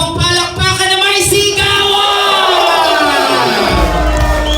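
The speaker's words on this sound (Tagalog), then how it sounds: "isa ulit masigabong palakpakan na may" A Christmas party crowd at Loxton Hotel roars with loud, sustained cheering and shouting, dense and close throughout, with a few voices rising above the mass.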